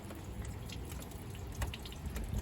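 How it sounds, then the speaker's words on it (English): Hot water poured onto an iced-over car door during an ice storm, a faint trickling and dripping splash against steady outdoor background noise, no talking. "I'm trying to open the car with some water,"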